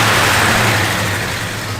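A 1969 Plymouth Road Runner with a mild cam runs loud and close, its engine giving a broad, rushing roar that eases slightly as it shifts and settles.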